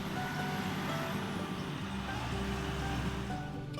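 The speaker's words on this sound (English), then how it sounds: "Confirmation, here's a truck." A truck near the entrance to a tip on a mountain road, its steady engine rumble close by with faint intermittent reversing-style beeps over constant background noise.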